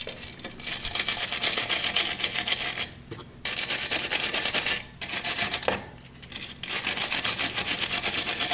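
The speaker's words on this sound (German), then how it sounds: "nehmt ihr euch am besten eine Drahtbürste und Rostlöser, macht alle Bolzen ein bisschen sauber" Wire brush scrubbing rusty bolts on a car exhaust, an Opel Astra, in a steady rasping back-and-forth rub that pauses briefly a few times, close and loud with no talking.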